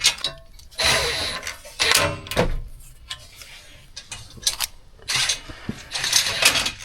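A Snap-on impact gun working on a truck: several short, rattling mechanical bursts separated by pauses and mixed with metallic clinks, fairly close.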